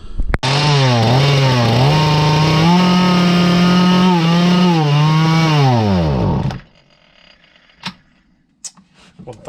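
A Husqvarna 235 chainsaw runs loudly after a carburetor rebuild, its engine revving up and down for about six seconds before cutting out, followed by a few faint knocks and clicks.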